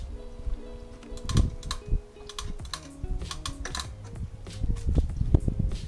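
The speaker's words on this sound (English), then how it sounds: "Also, this GoPro probably won't pick it up, but there's this clicking sound." A rapid, irregular clicking from a 2004 Yamaha R6 motorcycle, a patter of small ticks over a low steady hum, close and fairly quiet, with no talk.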